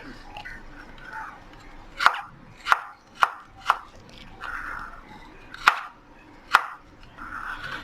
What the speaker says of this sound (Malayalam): ഓരോ പീസായിട്ട് എടുത്തിട്ട് അരിയണം നമ്മൾ